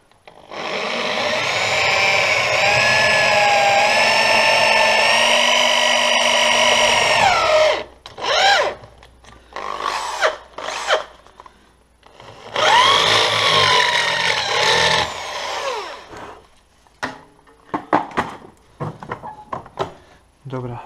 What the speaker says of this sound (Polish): Po wierceniu, gwiertło przechodzi.